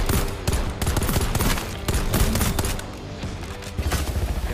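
Gunfire in the open-world shooter video game Exoborne comes as dense, rapid bursts of shots and booms. It is loud and continuous at first, then thins toward the end, and no one speaks.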